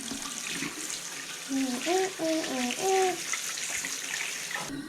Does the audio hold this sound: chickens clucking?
no